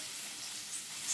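Meat searing in a hot pan, a steady hissing sizzle that stays even throughout, quiet and unbroken, no talking.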